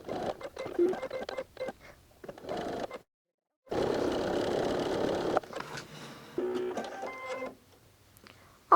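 A sewing machine stitches quilt blocks with a quarter-inch seam for a beginner's quilt-as-you-go project, running in several start-stop bursts of whirring motor hum, the longest lasting about two seconds, with brief silent pauses between.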